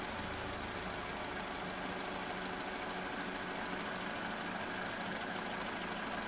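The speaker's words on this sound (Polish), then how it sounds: "Sprawdzimy, czy instalacja elektryczna ma wystarczającą moc, aby uruchomić silnik." Car engine running steadily through a battery starting test, a constant mid-pitched engine hum with a faint knocking texture and no pauses, close and moderately loud.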